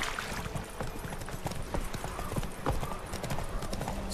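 A horse clip-clops at a steady trot in the video game The Witcher 3, with hoofbeats rhythmic and continuous over a dense bed of game ambience.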